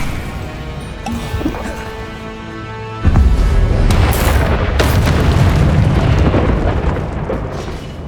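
A Confringo blasting curse in Hogwarts Legacy sets off a loud, deep booming explosion that rumbles and crackles for several seconds, close and dominant with no talk over it.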